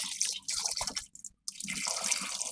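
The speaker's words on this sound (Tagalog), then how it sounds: "At talagyan naman natin siya ng tubig hanggang sa lumambot." Water pours into a pot of tuna being cooked, a steady splashing stream that breaks off briefly midway and then resumes, close and fairly quiet with no talk.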